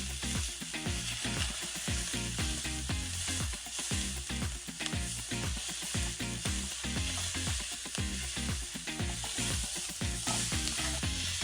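Spices, ginger, garlic and onion fry in a pan for a Bengali egg curry, a dense continuous sizzle broken by rhythmic stirring scrapes, close and steady throughout with no talking.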